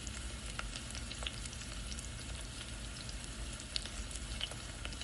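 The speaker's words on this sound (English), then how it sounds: "The frying pan thing." A frying pan sizzles steadily in an animated short, a continuous crackling hiss with scattered small pops throughout, with no talking over it.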